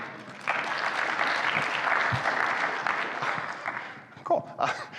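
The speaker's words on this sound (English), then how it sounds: "burst out in uncontrollable applause" Audience applause at a RailsConf 2022 tech talk, a sustained burst of many hands clapping indoors that tapers off near the end, with a few louder isolated claps and brief voices at the close.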